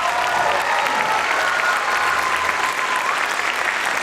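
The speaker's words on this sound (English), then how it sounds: "How about another round of applause for Troy Rollins?" Loud, full applause from a school concert audience honoring a performer, a thick uninterrupted roar of clapping that stays even and close throughout.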